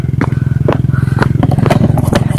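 Motorcycles labor up a steep, rough trail through a teak forest, their engines throbbing loud and close in a steady pulsing rhythm, with clattering and scraping mixed in.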